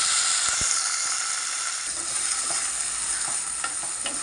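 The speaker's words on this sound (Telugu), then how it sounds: "ఆయిల్ వేసాను, కొంచెం ఉల్లిపాయలు వేసాను" Eggplant and onions frying in oil in a pan, a steady close sizzle with occasional scraping stir strokes and small clicks.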